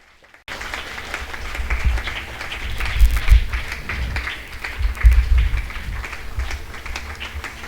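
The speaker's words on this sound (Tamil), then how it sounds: "உங்களுடைய வாழ்த்துக்களும் கைத்தட்டலும் கொஞ்சம் பலமாக இருந்தா இன்னமும் நல்லா இருக்கும்" Audience applause fills the room at a Tamil book launch for a first book, a dense steady patter of many hands with a few louder swells, starting abruptly after a brief quiet.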